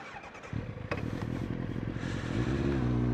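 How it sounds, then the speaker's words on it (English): Motorcycle engine starting and revving up close, a sudden burst of throaty rumble followed by a rising rev, with some clatter. "Give your bike a rev, then put down your visor."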